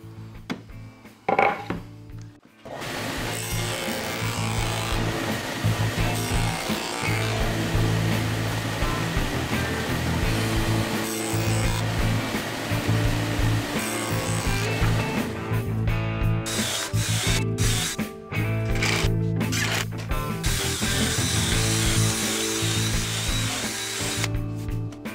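A power saw runs continuously and loudly, cutting a slot in wood half the thickness of a rod for a folding step stool, with a steady whining hum and brief gaps at the start and near the end.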